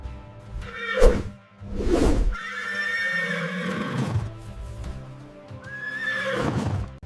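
A horse whinnies loudly several times in close, high, wavering calls, with some shuffling hoof sounds between them and no voices.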